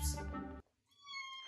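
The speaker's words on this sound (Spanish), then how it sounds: "Si el gatito está feliz, que diga miau" A cat gives a short meow after a burst of voices singing a Spanish children's song, the mew thin and fairly close.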